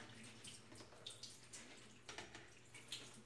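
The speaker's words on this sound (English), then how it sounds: "I rinse first with just tap water, and then I finish it off with a little purified water." Tap water running over nuts being rinsed in a sink, a quiet steady wash broken by soft splashes and drips, with no talking.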